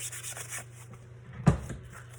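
A tumbler being scuffed with sandpaper of roughly 280 grit, heard as a soft, steady rubbing that swells into one brief, louder scrape near the middle, then settles back to quiet abrasion.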